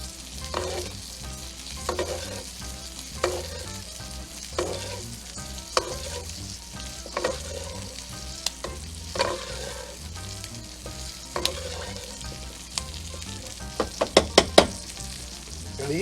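Monte Cristo sandwiches with Gouda cheese fry in hot butter in a New Orleans French style, a steady low sizzle broken by repeated scraping and tapping as they are basted, with several sharp clicks near the end.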